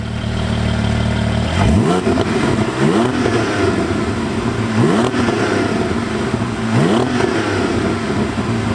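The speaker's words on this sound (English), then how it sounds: "going to do a few revs, valves closed, then valves open" Porsche GT4 flat-six fitted with a Milltek exhaust, valves closed, revved repeatedly from idle: four sharp blips rising and falling at roughly two-second intervals over a loud, steady idle burble close by.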